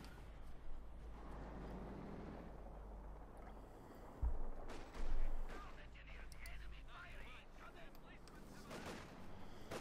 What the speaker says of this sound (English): we got Fear Propaganda artillery going off somewhere